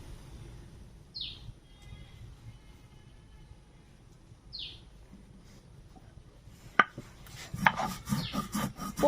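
Mustard and poppy seeds being ground into a paste, heard as rough rubbing and scraping strokes that start near the end after a quiet stretch with faint bird chirps far off.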